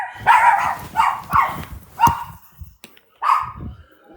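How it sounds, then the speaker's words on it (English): A dog barks in a quick series of sharp, loud woofs close by, five or so barks with brief pauses and a final bark after a short silence. "It's a whole different bark."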